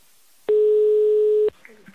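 A single steady telephone line tone lasts about a second on a call being placed as a prank, cutting off abruptly and followed by faint, scattered sounds on the line.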